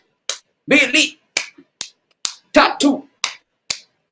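A person claps their hands about nine times in a loose, uneven rhythm. The claps are sharp, close and loud, with brief spoken counting between some of them.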